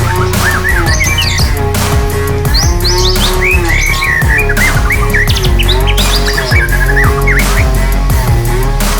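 Lovebirds chirp loudly and rapidly in a busy bird market, with dense overlapping tweets and squawks filling the whole stretch close to the microphone.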